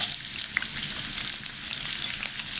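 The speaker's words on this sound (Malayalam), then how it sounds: "ഇത് ഈ ചൂടായ എണ്ണയിലേക്ക് ഇട്ടിട്ട് നല്ലപോലെ ബ്രൗൺ ആക്കി എടുക്കുക." Sliced onion sizzles steadily in hot oil as it fries toward brown for a chicken karahi, a continuous close crackle with small pops and no voices.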